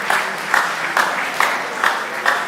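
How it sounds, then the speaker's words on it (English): Audience applause at a mentorship session, a steady wash of clapping with a few sharper bursts roughly every half second, fairly loud and continuous with no talk over it. "I mean, clap for yourselves once again"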